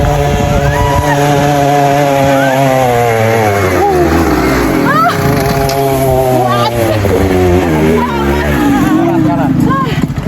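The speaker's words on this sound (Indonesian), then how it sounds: "Karena emang kalau nggak digaspol dia kehilangan momentum motornya karena nanjak" A motorcycle taxi climbs a steep mountain trail on Mount Sumbing, its engine loud and close, revving hard and pitching up and down throughout. People talk over the engine.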